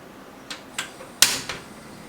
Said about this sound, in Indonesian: Kemudian kita nyalakan kompornya.